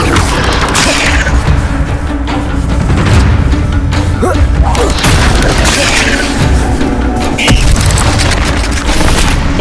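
Repeated Incendio fire spell blasts in the video game Hogwarts Legacy, loud booming bursts and crackling impacts layered over constant heavy combat noise, with several sharp hits spread across the clip.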